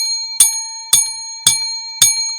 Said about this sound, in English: I will ring the bell 55 times.